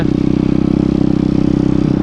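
A PitBike 170 MRF Detroit pit bike being ridden on an unadjusted carburettor, its single-cylinder engine running close and loud with a rapid, even putter and a clattery rasp throughout, with no voices.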